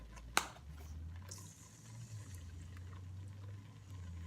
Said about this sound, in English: now it's ready for the coconut milk, and I'm going to add it gradually